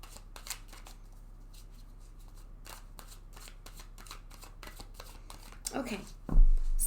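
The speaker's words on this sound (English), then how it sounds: "let's go ahead and shuffle this deck a couple more times now" Tarot cards riffle and flick in a series of quick shuffles, close and crisp, with a louder rustle near the end.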